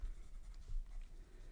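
Pen scratching across paper, close and quiet, in short uneven strokes with slight pauses between them.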